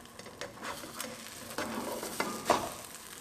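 Pancake batter cooks in a hot frying pan, giving a steady close sizzle broken by scraping and clinking as the pan and utensil are handled, with no talking.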